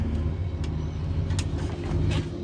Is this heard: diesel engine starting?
yes